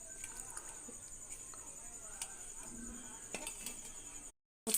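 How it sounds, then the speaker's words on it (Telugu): Turmeric, chili powder, salt and water mixed in a cooking pot for raw mango dal soup, with faint clinks and scrapes of a spoon under a steady hiss and quiet talk. "మొత్తం కలుపుకొని వాటర్ పోసుకొని కాచుకుందాం"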